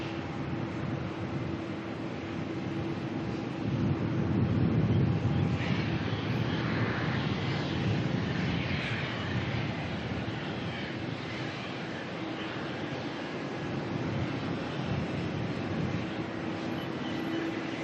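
Jetstar airliner engines spool up at Melbourne airport, a broad, steady roar with a low rumble that swells slightly around the middle and holds at a loud, sustained level without voices.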